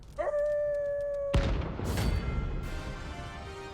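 Dogs in a Final Fantasy XVI hunt let out a loud, drawn-out howl. A sudden heavy boom cuts it off, and a roar of combat noise follows.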